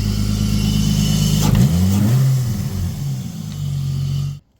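Nissan 240SX with a swapped Skyline RB25DET engine running on E85 during a test drive, loud and close, holding a steady drone before revving and shifting with rising and falling engine pitch, then cutting off abruptly.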